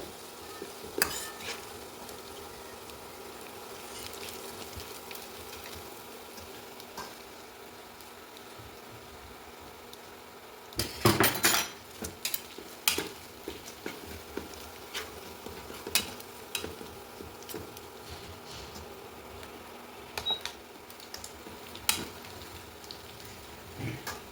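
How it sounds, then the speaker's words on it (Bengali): Ingredients for an egg devil fry quietly in oil in a pan over a low flame, giving a faint, soft sizzle broken by scattered clinks and scrapes from stirring, louder around the middle. "এবার একটু এটাকে ভেজে নিচ্ছি হালকা ফ্লেমে।"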